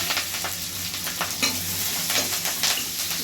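Onion and curry leaves sizzle steadily in a hot tempering (oggarane) for ridge gourd upsaru, with continuous frying crackle and scraping stir strokes throughout, close and without talk.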